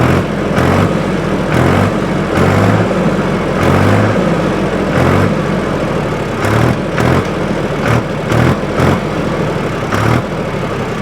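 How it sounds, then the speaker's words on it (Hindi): A Mahindra 275 DI TU PP tractor's diesel engine idles at roughly 600 to 700 rpm, giving a loud, steady, close-up chugging rumble with regular pulsing throbs throughout and no voices. "ट्रैक्टर की जो आवाज़ है वही सुन लो।"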